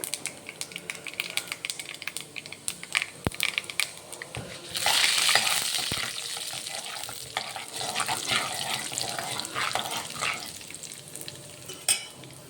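Urad dal and lentils fry in a pan of oil and ghee, giving a steady close sizzle with scattered crackles and a louder hissing stretch partway through. A few sharp knocks of utensil on pan punctuate it, and no one speaks.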